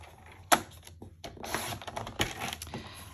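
Paper for a Stamperia album page is cut, giving one sharp snap followed by a run of soft crisp rustling and trimming sounds, close and quiet, no voices.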